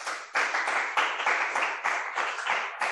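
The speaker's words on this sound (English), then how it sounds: "Oh, so glad to hear the clapping live." An audience claps after a talk, a short burst of dense, irregular clapping heard close and fairly loud with no talk over it.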